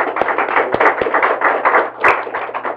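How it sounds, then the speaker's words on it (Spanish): Audience applause welcoming a tax lecturer at a seminar, a few distinct nearby claps standing out over a moderate round of clapping from a modest-sized room. "Pues vamos a darle un aplauso de bienvenida al licenciado"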